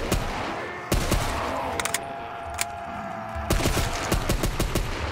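An MP40 submachine gun fires in Call of Duty custom zombies as several rapid automatic bursts, loud and near, with the longest burst at the end.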